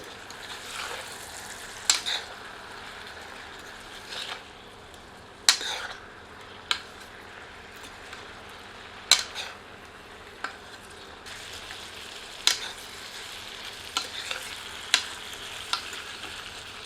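Guinea fowl meat being stirred and fried with chilli and spices in a pressure cooker pot, giving a steady soft sizzle with scattered sharp scrapes and clicks of the spoon, close and without talk.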